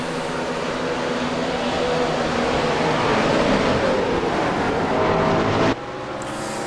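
GT3 race cars at the start of the Bathurst 500 at Bathurst, a dense sustained engine roar from several cars that drops away sharply near the end.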